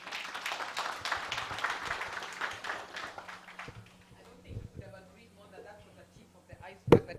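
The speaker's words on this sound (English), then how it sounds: "Another round of applause" A conference audience at a lubricants and coolants summit gives a round of applause after a presentation, a dense burst of many hands clapping that fades out after a few seconds into quieter room sounds.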